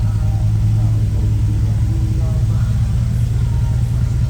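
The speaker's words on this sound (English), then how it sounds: "The exhaust sounds a lot different." A 1963 Chevrolet Impala SS idles steadily with a low, even exhaust rumble after carburetor float and air-fuel mixture adjustment, running continuously up close with no talk over it.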